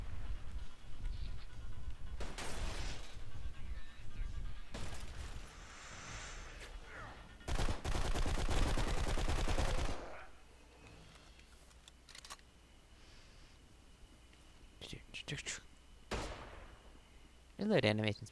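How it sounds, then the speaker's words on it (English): Enemy gunfire in the shooter Blacksite Area 51, bursts of shots crackling in several loud stretches with a long sustained volley in the middle, mixed with game noise and a player talking. "please stop shooting me"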